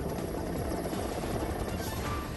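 An Air Force helicopter hovers during a rescue, lifting a young man by rope from a rock in a fast-flowing river, giving a steady, moderately distant rotor and engine drone with no speech.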